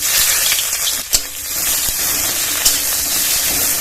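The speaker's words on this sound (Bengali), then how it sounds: "গরম তেলে পেঁয়াজ কুচি দিয়ে দেবো" Chopped onion dropped into hot white oil in a wok, giving a steady, loud, close sizzle and hiss with a couple of brief utensil taps.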